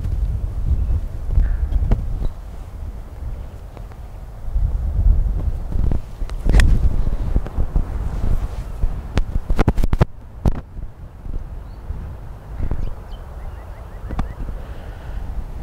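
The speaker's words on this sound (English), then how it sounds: "the wind is so strong" Strong, cold wind buffets the microphone outdoors during golf swing practice, a steady low rumble with gusts rising and falling throughout and a few sharp knocks and rustles, with no talking.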